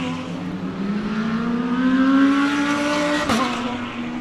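Race cars lapping at Dezzi's Raceway in a circuit race, a Porsche among them, give a steady loud engine drone that climbs in pitch as the cars accelerate, with a brief sharp burst near the end.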